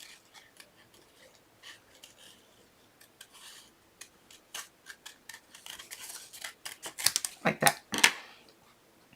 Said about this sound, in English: so just fussy cut around